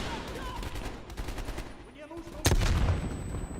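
Gunfire in the video game Black Ops Cold War, rapid bursts of shots mixed with game sound and a louder blast near the middle, under muffled background noise.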